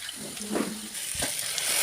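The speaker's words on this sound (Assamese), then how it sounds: "ইয়াতে পানী উতলি আছে" Water bubbles in a cooking pot for a traditional Assamese greens dish, heard as a close, steady hiss with brief louder pops.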